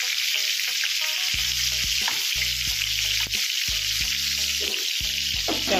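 Pointed gourd (potol) frying in oil in a pan gives a loud, dense, continuous sizzle heard up close, with a tonal melody playing underneath and no talk.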